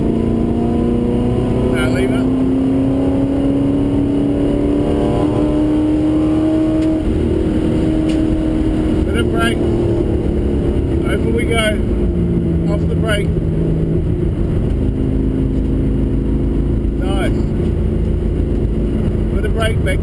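A V8 race car on the Pukekohe track in Auckland roars loudly and steadily from inside the cabin, engine pitch rising and falling through gear changes while an instructor talks over it.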